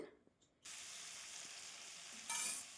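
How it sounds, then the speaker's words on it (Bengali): Potatoes frying in a pan, a quiet start that turns abruptly into a steady hiss of sizzling oil, which swells louder near the end as the pieces are stirred. "এই যে আলুগুলো ভাজতে বসিয়ে দিয়েছি"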